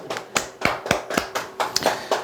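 A scattering of separate claps from an audience at a motivational seminar, about eight sharp hits in an uneven rhythm over two seconds, fairly close and with no talking.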